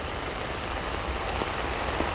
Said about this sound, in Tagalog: mamaya lalakas pa yung ulan